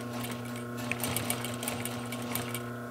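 A sewing machine backstitches a couch skirt during sofa reupholstery, its needle running in a steady, loud, continuous whir close by for the full few seconds, with no talk.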